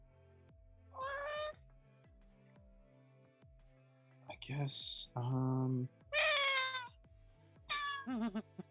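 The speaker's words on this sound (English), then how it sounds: "I love a cameo from the cat." A pet cat meows several times, loud and close, in a series of drawn-out calls, while a person speaks briefly during a tabletop role-playing game session with dice.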